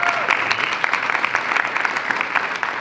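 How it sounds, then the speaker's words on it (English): An audience at a film screening event gives a round of applause, dense and close, with a steady patter of many hands sustained throughout. "Round of applause for Jeff and Wendy as well."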